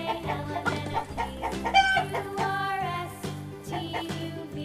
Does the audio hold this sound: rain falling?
no